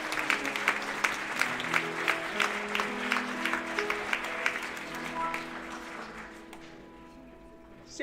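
Wedding guests at a church ceremony applauding the groom, a sustained patter of many hands that gradually fades, with soft music and faint voices underneath.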